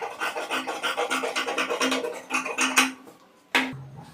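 Scissors cut through blouse fabric along a seam margin in a quick run of rhythmic, rasping snips, then a few slower cuts and a final sharp snip, close up.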